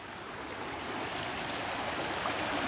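A creek flows steadily at night, a continuous close rushing and bubbling hiss of water with no voices.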